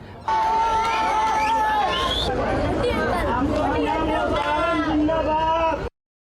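Packed crowd in Patna fills the air with loud, overlapping chatter and occasional whoops, a dense steady roar of voices that stops abruptly near the end.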